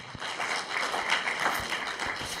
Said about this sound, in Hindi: तालियां बजाइए, पास, फुल मार्क।